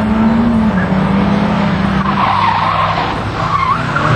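Small cars such as a Peugeot 205 and a Citroën AX skid at a 1988 Icelandic driving skill competition, with loud continuous tire squeal and engine noise sustained throughout.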